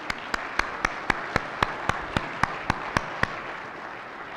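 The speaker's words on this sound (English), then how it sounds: "So let's give a round of applause for our sponsors." Applause for sponsors at a RESNET conference general session, heard as sparse, evenly spaced single claps about four per second, close and distinct, stopping after about three seconds.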